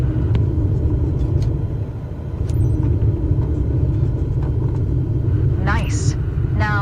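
Low, steady aircraft engine rumble with hiss in Microsoft Flight Simulator 2024, throttled back to idle during a landing, holding evenly throughout with a brief chirp near the end.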